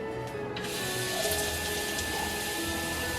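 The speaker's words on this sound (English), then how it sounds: "so I'm gonna fill both these up with water." Tap water runs steadily into empty tomato cans at a kitchen sink, a close, continuous rushing splash with no voices.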